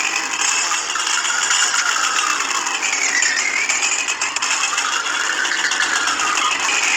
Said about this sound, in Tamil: RX 100 guys. சவுண்டு பார்த்தீங்களா?